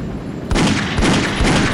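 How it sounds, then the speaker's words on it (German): Grenade blasts in the video game Battlefield 1942 (Eve of Destruction mod), loud broadband bursts punctuating continuous battle noise, with about three sharp thumps in under two seconds. "Der hat eine Granate geworfen"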